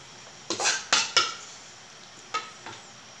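A wok being heated and handled on a stove before making Bikol Express fried rice, giving several sharp metallic clanks and scrapes in a short cluster, then a couple more after a pause.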